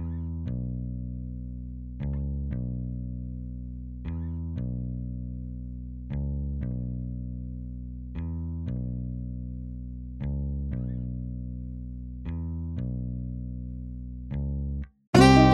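A synth bass plays a simple repeating pattern built from guitar bass notes, steady sustained tones re-struck about every two seconds, clean and alone until a brief louder burst at the end.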